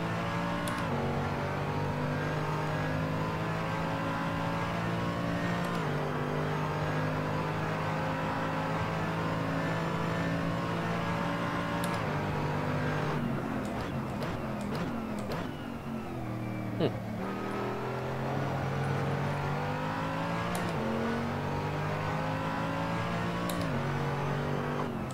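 Race car engines in the racing game Assetto Corsa Competizione drone and rev continuously, shifting pitch through gear changes as the car accelerates and slows, with a voice talking over them.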